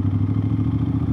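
Aprilia RS660 two-cylinder motorcycle fitted with a new aftermarket exhaust, idling with a deep, steady, throbbing burble up close, loud and continuous with no talk.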